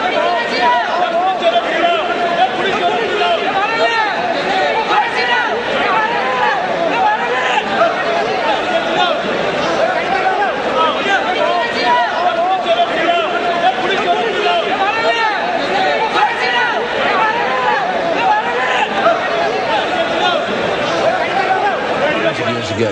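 A dense roar of traders on a stock exchange floor, many voices blending into a loud, steady babble that never lets up.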